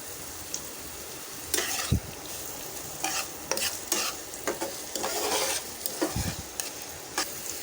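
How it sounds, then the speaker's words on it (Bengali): Onions with green chillies and salt fry in a pan for a chicken dish, a faint, low sizzle broken by irregular scraping and clinking stirs of a spoon against the pan, with no one talking. "পেঁয়াজটা ভাজা হয়ে গেছে"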